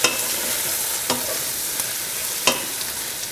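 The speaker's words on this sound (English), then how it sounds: "See, they fry it again." Rabbit pieces with mushrooms frying for cacciatore, a close, continuous hiss of hot oil broken by a few sharp spatula knocks against the pan.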